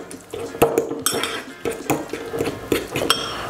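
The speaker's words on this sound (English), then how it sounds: "Give that a little stir." A spoon clinks and scrapes against a bowl while stirring canned tuna with generous extra virgin olive oil, several sharp metallic taps in an uneven rhythm, close and fairly loud.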